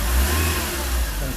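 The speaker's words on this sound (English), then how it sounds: "Rev it up a little bit here." An old Italian car engine revs up during a tune-up. A loud, close, sustained roar fills the entire short moment.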